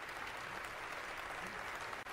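Sustained standing ovation in the House of Representatives for a departing leader, dense steady applause from a large crowd filling the whole moment with no break.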